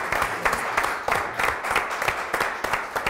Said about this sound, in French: Applaudissements, bravo Lulu